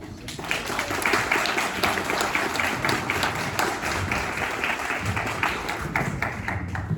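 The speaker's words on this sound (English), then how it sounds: "Can we have another round of applause for Kevin?" A crowd at a civil liberties community event gives a round of applause for Kevin, dense continuous clapping that holds steady from start to finish.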